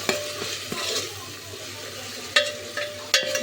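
Rice goes into a hot pan with a sizzling hiss, punctuated by a few sharp scraping clatters of a utensil against the metal.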